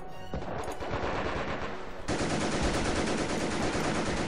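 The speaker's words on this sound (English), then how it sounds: "the enemy has built an MG emplacement" A machine gun emplacement fires in the Company of Heroes video game, sustained rapid automatic bursts that grow louder and denser partway through, dense battlefield gunfire with no talking.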